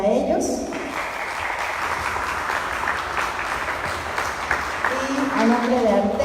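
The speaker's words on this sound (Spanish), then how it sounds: "Un aplauso para ellos." Audience applause at a crime fiction festival talk in Acapulco, a steady wash of clapping of moderate loudness lasting several seconds, with voices heard at the start and near the end.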